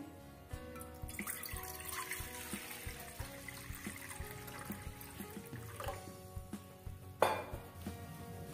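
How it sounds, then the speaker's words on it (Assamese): Water poured into a kadai sitting on a gas stove, a steady splashing pour with drips, close by and continuous, ending in a louder splash before trailing off. "ইয়াত মই অলপমান পানী ঢালিম।"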